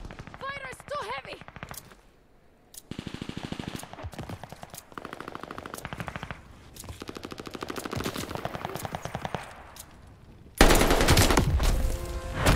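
Machine guns rattle in rapid bursts during a Call of Duty: Vanguard battle, with dense overlapping gunfire growing heavier and louder toward the end, mixed with shouted voices.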